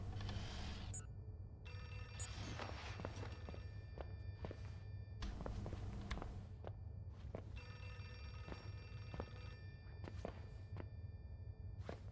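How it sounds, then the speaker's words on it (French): Faint, repeated telephone ringing in a quiet indoor space, recurring in short bursts, with occasional soft footsteps and thumps between the rings and no talking. "Téléphone, putain, il fait que sonner."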